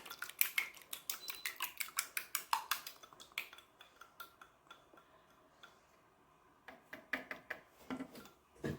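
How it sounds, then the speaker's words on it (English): An egg is whisked in a bowl in a home kitchen for cinnamon rolls. Quick, sharp metallic ticks land in a rapid rhythm, pause briefly midway and then start again, close and fairly quiet. "I'm going to whisk my egg here"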